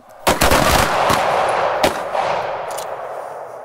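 A sharp close-range gunshot from a close retention shooting drill cracks out, followed by a second shot and fainter follow-up reports with a ringing echo that slowly decays.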